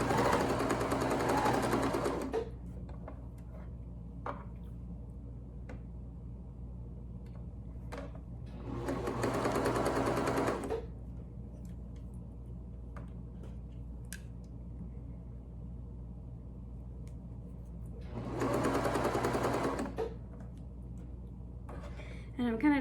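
Sewing machine stitching stretchy knit fabric for a neck gaiter mask, running in three short bursts of rapid mechanical whirring separated by quiet pauses with small handling clicks.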